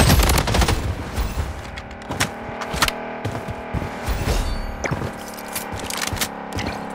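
Rapid bursts of gunfire from the Blood Strike video game, with MCX and MP5 weapons in a squad firefight, crackle close and loud in uneven volleys alongside metallic clatter throughout.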